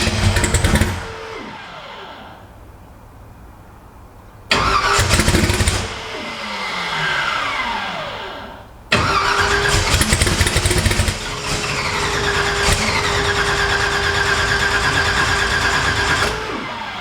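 A twin-turbo Ford Cortina engine with fuel pressure set slightly high cranks in loud bursts on its first start, sputtering and catching, then settles into a sustained rough run near the microphone.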